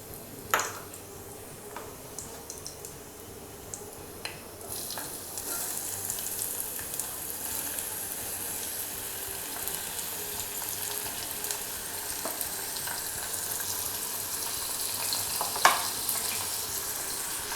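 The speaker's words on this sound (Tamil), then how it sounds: "இப்போ வெங்காயம் வந்து கொஞ்சம் வதங்கட்டும்." Onions and fennel seeds sauté in a pan for brinjal thokku, giving a steady soft sizzle that runs throughout with a few faint clinks, and no talking.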